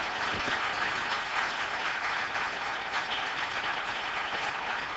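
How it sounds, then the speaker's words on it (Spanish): A church congregation claps for the Lord at a Pentecostal service, a dense, continuous wash of applause from many hands sustained at an even level throughout. "Denle un aplauso al Señor y seamos bien pentecostales."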